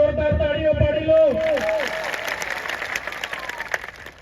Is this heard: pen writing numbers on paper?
no